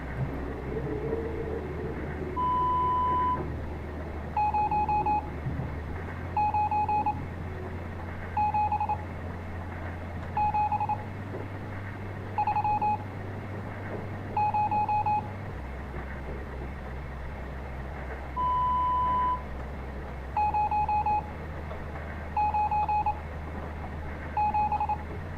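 Telephone keypad dialing tones sound in the Stories Untold video game, a series of short beeps in irregular groups over a low steady electronic hum, clear and close with no talk.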